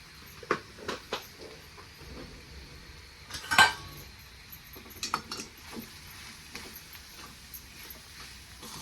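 A spoon mixes a boiled potato filling with chopped coriander and salt in a bowl, making scattered light clinks and taps against the bowl with one louder scrape, close and fairly quiet, no voices.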